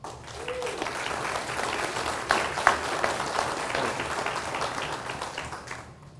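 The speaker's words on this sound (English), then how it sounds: "I thank you for the applause" Applause from the audience at a Lawrence County, Ohio candidates' night, a full, sustained patter of many hands that swells in the middle and tapers toward the end, with a brief murmur of voices early on.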